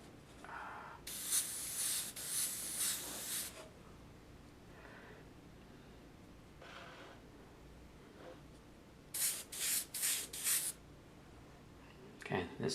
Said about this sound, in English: Let's take a dryer sheet and we're going to spray through the dryer sheet in that pattern.